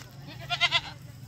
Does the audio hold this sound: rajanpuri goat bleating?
yes